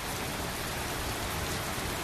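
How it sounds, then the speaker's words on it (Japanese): Steady, loud rain pours down throughout a scene in the video game Tales of Berseria, a continuous broadband hiss with no talk over it. "あつらえたかのように雨が"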